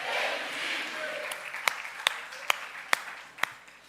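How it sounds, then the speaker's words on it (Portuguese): A church congregation applauds during a worship service, a soft wash of clapping and crowd noise that thins into several sharp, separate hand claps near the end. "Vamos aplaudir a presença dele."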